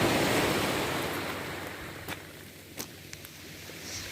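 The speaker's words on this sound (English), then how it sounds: "You can see the sea is beautiful." Sea surf washing onto a beach on a calm sunny day, a broad steady rush that fades gradually, with a few faint clicks and taps near the end.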